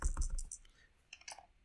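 Cards for an Eldritch Horror board game are shuffled in a quick, faint riffle that crackles for about half a second, followed by a shorter second burst after a brief pause.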